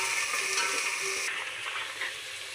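Vegetables and potatoes for veg pulao being stirred in a hot pan, giving a steady sizzling and frying hiss with soft scraping, close and continuous without pause.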